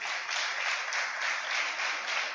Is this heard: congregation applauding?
yes